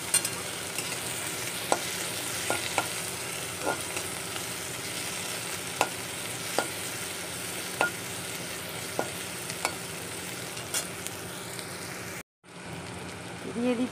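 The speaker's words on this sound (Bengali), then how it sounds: "দিয়ে দিচ্ছি টমেটো কুচি, এবার এগুলোকে সুন্দর করে ভাজবো" Chopped tomatoes fry in a pan while being stirred, a steady broad sizzle running throughout with scattered spoon clicks against the pan, close and fairly quiet, cutting out briefly near the end.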